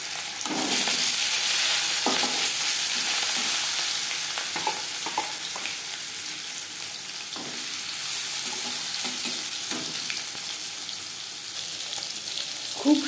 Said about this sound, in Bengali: এবার দিয়ে দেব লবণ হলুদ মেখে রাখা মাছ